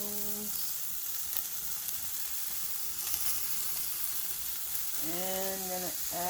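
A meatless burger patty and onions fry in a pan with a continuous, even sizzle. Brief tonal sounds rise at the start and again near the end.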